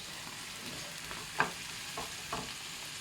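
Food sautéing with garlic in a pan gives a faint, steady sizzle, with a few soft stirring scrapes and one brief louder clatter near the middle.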